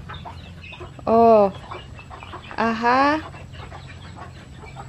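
A farm chicken gives two loud, close clucking calls, each about half a second long, over quiet outdoor background, with a person's brief exclamations nearby.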